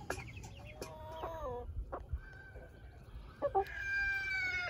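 Backyard chickens cluck and chatter around sturdy galvanized feeders, with a run of short calls and a few longer drawn-out notes rising over a low outdoor rumble.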